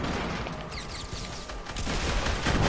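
Rapid minigun fire rattles continuously in a battle royale video game, dense and sustained gunfire sounding throughout at moderate loudness.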